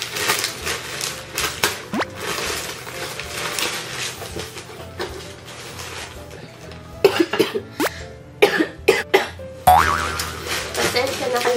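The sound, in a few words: person coughing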